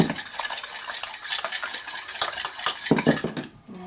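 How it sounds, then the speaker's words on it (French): A utensil stirs sugar into a pear and chocolate tart filling in a bowl, with close clinks and scrapes against the dish in an uneven rhythm and no talk. "On remélange le tout."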